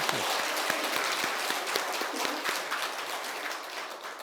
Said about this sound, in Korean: 크게 하나님 앞에 영광의 박수를 돌리겠습니다